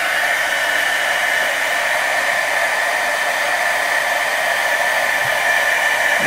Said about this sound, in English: Okay, you just turn on your craft heater.